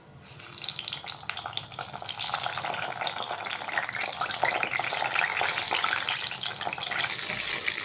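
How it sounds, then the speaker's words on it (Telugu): Brinjals frying in oil for a stuffed brinjal masala curry, giving a steady, dense sizzle and crackle that holds fairly loud and even throughout, with no talking. "ఇప్పుడు ఈ వంకాయలన్నీ కొంచెం నూనెలో వేగాలి"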